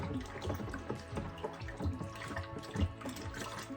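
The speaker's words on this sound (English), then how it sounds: "what we're going to do now is we're going to mix that honey in to this hot water" Honey is stirred into hot water for a juniper and Madagascan vanilla mead, with continuous soft sloshing and swirling liquid sounds plus scattered light clinks and taps throughout, fairly quiet and without talk.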